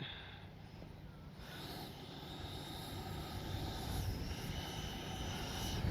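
An FMS Avanti S 90mm RC jet flies overhead with a steady, faint rushing whine that slowly swells as it draws nearer, heard from a distance in the open.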